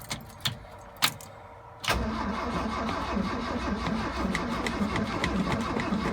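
A 1979 Ford truck gives three sharp isolated clicks, then a sudden sustained loud mechanical engine roar that carries on steadily, heard up close.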